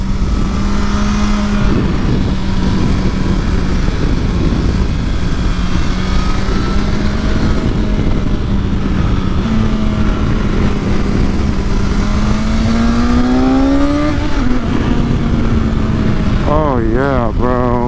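BMW S1000XR sport touring motorcycle at speed on the road, a loud close engine drone that rises and falls with throttle, with wind rush and bursts of talk from the rider.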